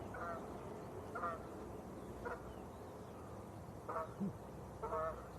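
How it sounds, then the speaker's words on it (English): Canada geese honk while flying past near Manchester Airport, about five short distant honks spaced irregularly over steady outdoor background noise, with no talk. "Canadian geese."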